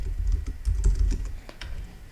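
Several soft, irregular clicks of keys on a computer keyboard as a command is typed into a Minecraft Bukkit server, close but fairly quiet, over a low background hum.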